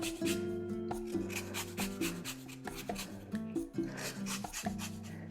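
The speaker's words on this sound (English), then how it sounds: "we're going to grab the zesta and zest up" A zester rasps across a lemon in quick, repeated scraping strokes, close and fairly quiet, over a tonal musical background.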